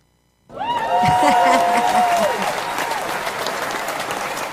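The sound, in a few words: applause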